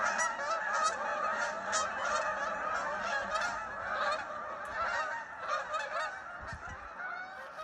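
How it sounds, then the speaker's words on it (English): A dense chorus of a few thousand geese honking continuously in western New Brunswick, Canada, many birds calling at once in a loud, overlapping din that never lets up. "come upon what sounds to be a few thousand geese"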